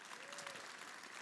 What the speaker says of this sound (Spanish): démosle un fuerte aplauso a Alfonsito